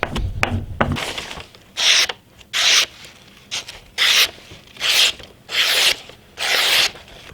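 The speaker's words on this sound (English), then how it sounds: "if you just strap and follow that convex, it'll help blend all those scratches together" A convex-ground knife edge is stropped on a compounded strop after sharpening on a flat whetstone, making a series of about six distinct rhythmic rubbing strokes, each a soft swish with a brief pause between, close and fairly loud after a muffled handling noise at the start.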